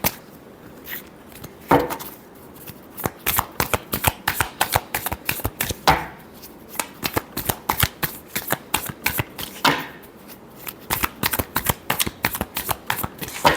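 Tarot cards are shuffled by hand in a steady stream of crisp riffling and slapping bursts, close up and clear, continuing in uneven rhythm with brief pauses and no talk.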